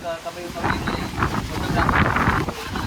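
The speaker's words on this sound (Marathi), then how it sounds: "आणि वारा बघा वारा सुटला बघा." Wind gusts near the Gharpi waterfall in Sindhudurg, Konkan, buffeting the microphone with a steady, loud, rumbling roar that swells and eases throughout.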